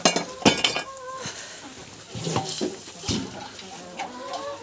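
Chicks and hens in a farmyard poultry yard cluck and chirp around feeding time, short high calls scattered over clinks and light knocks from the feed container, close by and moderate in level.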